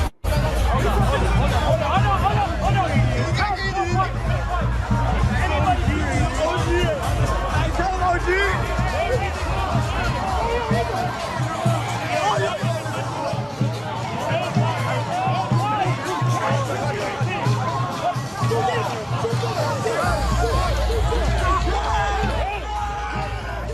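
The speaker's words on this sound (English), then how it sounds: "this is the pro-Israel crowd reaction to the Free Palestine protesters on these campuses" A pro-Israel crowd on a campus reacting to Free Palestine protesters: dense, continuous babble of many voices with shouts and whoops, loud and close, lasting throughout without a break.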